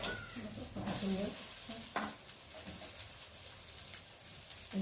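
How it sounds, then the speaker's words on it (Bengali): Food sizzles steadily on a very thin, quickly heating tawa, with soft scraping and stirring clicks over the frying; the sound is close and fairly quiet. "আর এক পিঠ করে ভালোভাবেই ভাজা হয়ে যাচ্ছে"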